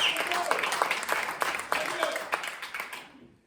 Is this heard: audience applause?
yes